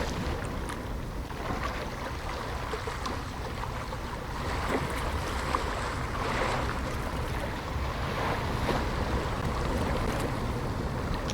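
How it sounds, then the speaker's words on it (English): Waves splashing against a ship rocking at night, a steady broad wash of sea surf and wind with soft swells and no voices, even and continuous throughout. "You're listening to the waves splashing against the ship as you rock gently in the night."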